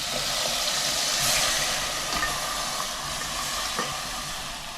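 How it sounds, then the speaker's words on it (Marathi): Steady hiss of crab curry tempering sizzling in hot oil in a pan over a wood-fired clay stove, close and continuous, with a few faint clinks. "फोडणीचा आवाज बघा कसा आला मस्त एकदम"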